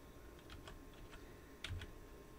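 Light, sparse keystrokes on a computer keyboard, a handful of soft clicks spread over a couple of seconds with one slightly firmer tap, close and quiet with no talk.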